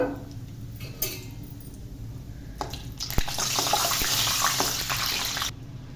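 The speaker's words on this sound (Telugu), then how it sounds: "ఆయిల్ హీట్ అయిపోయింది ఇప్పుడైతే రెండు స్పూన్లు వేరుశనగ గుళ్ళు వేసుకుంటున్నాను" Peanuts dropped into hot oil for poha, a sudden bright sizzling hiss that swells and holds steady for a couple of seconds, with soft clinks of a spoon before it.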